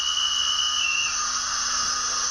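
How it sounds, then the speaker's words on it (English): A conductor's signal whistle from a Hornby Class A4 Pacific DCC sound model locomotive, a steady shrill high tone lasting about a second, close and clear over a constant electronic hiss. "We've got function 8 for the conductor signal"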